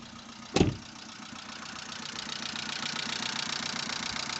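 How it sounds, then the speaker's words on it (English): A warmed-up 2005 Vauxhall Astra H engine idles quietly and steadily with a faint rhythmic ticking, after one brief knock near the start, no voices. "So the car's warmed up. Let's see what the engine's like."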